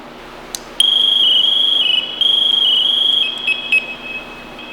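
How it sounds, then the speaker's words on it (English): A Scott Air Pack SCBA manual alarm sounds a steady, piercing high electronic tone that warbles and shifts pitch for several seconds before stuttering off in short bursts. "we're going to hit the manual alarm button and then hit the reset button twice to turn it off."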